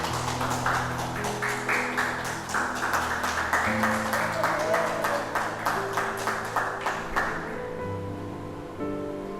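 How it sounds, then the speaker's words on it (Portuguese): Church congregation claps in a rhythmic, unison beat of sharp repeated claps, fairly close and loud, with sustained organ or keyboard tones underneath, the clapping fading out near the end. "Vamos aplaudir o Senhor por isso?"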